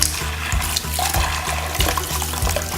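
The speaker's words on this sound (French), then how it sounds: "À présent, je vais rincer les pinceaux." Paint brushes rinsed under a running tap, a steady close stream of water splashing and trickling with small rhythmic knocks and swishes throughout.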